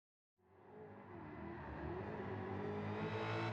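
A 2018 Dodge Challenger SRT Demon drifting at Suzuka in Gran Turismo 7, its engine starting abruptly from silence and revving steadily higher, a continuous growing roar with rising pitch and no voices.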